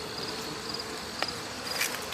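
Honeybees from a calm Dahlem hive hum as a faint, steady outdoor drone, with a couple of brief, slightly sharper buzzes as single bees pass close.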